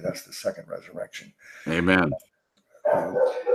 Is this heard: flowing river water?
no